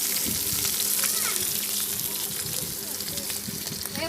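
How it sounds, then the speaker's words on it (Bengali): Fish frying in hot oil makes a dense, continuous sizzle that stays loud and steady throughout, close up, with faint bubbling crackle and no talk. "এখানে আমার মাছ ভাজা হচ্ছে।"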